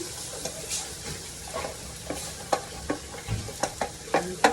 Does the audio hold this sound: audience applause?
no